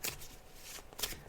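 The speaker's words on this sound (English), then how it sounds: "so I'm just shuffling the cards, Danielle." Tarot cards are shuffled in quick riffling bursts, two crisp flurries at the start and near the end, close and fairly quiet, with no voices.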